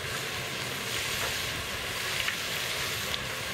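Diced pork steak fries in a chili pot, giving a dense, even sizzle that holds steady throughout with no voices.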